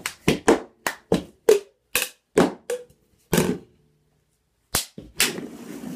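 Hand claps and cup slaps in a song routine: a quick rhythmic string of sharp, close claps and thunks, a brief pause, then a few more hits ending in rustling handling noise.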